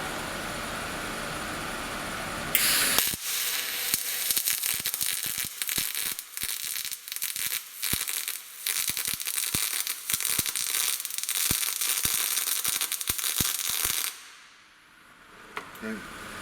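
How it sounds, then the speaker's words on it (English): A MIG welder running in spray transfer mode with a different shielding gas, at about 300 inches per minute wire feed and 25 volts, gives a steady, smooth hissing buzz for about eleven seconds, with sharp crackles scattered through it before cutting off. "That's spray transfer."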